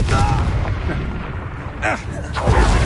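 A Confringo spell explosion in Hogwarts Legacy: a few booming blasts and impact bursts during combat, with a character's voice speaking over them.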